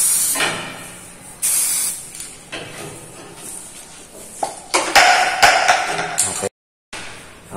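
Aerosol spray paint hissing in several short bursts and one longer stretch while a black finish goes onto a 50 cm spear gun, close and loud, with a brief silence near the end.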